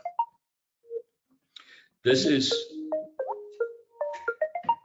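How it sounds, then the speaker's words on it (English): A Microsoft Teams ringtone sounds in short melodic electronic tone phrases, with a brief burst of talk in the middle and the tones rising and falling in quick repeated notes. "My Teams are ringing and it is not supposed to."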